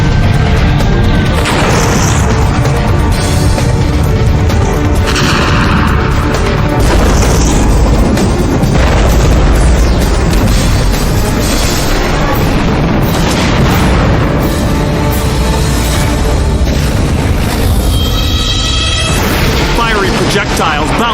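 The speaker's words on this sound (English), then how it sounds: "explosion after explosion rocks the most populous city in the southern hemisphere" Loud explosions boom one after another in São Paulo over a constant roar, with crashing debris and projectiles bursting in the streets layered throughout.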